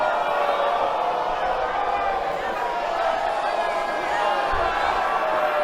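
A battle rap crowd roars in a steady, dense wash of cheering or booing that holds at a constant level throughout, with no single voice standing out.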